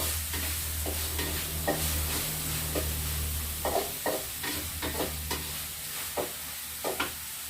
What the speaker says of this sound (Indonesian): Ayam kita goreng dulu, kita tumis dulu.